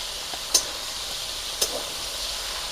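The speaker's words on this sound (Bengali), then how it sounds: "ঝিঙেটাও কষবো" Sliced ridge gourd sautéing in a pan gives a steady soft sizzle, broken by a couple of brief scraping stirs.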